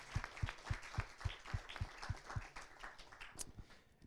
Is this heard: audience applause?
yes